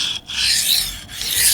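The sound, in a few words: knife rubbing across a Shapton Glass sharpening stone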